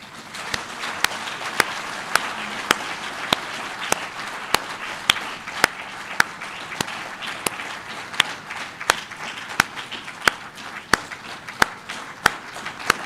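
An audience claps to welcome Professor PLO Lumumba, a dense, steady wash of applause with sharp regular claps standing out near the recorder throughout.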